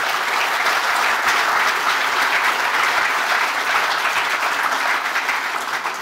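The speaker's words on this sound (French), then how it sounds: "on peut aussi les applaudir parce que c'est un partenaire" A crowd at a French speech applauds a racing team partner, the Robineaux team with its drivers and mechanics, producing loud, continuous, evenly sustained clapping throughout without talk over it.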